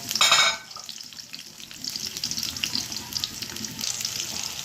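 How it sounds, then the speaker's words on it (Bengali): Chopped onion hitting hot oil for a loitta fish curry: a loud burst of sizzle at the start, then a steady crackling fry with intermittent stirring noises. "তেল গরম হয়ে গেলে আমি পেঁয়াজ কুচি দিয়ে দেব।"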